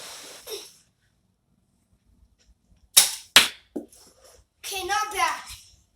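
Nerf toy pistol firing foam darts, giving a couple of sharp close snaps in quick succession, with a voice talking before and after.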